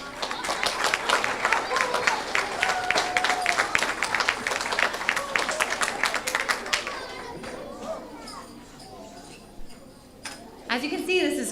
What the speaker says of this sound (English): Give these students another round of applause.